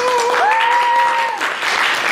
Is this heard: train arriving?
no